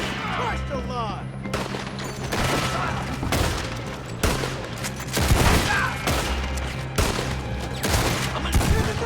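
Gunfire rings out in Red Dead Redemption 2, with repeated loud shots and bursts scattered through a busy, noisy scene.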